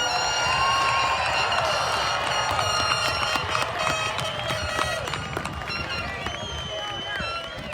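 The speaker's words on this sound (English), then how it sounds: "our graduates one more round of applause." Graduates of a high school class of 2021 receive a long burst of applause, cheering and whoops from a large ceremony crowd, steady and loud throughout with a voice speaking over it.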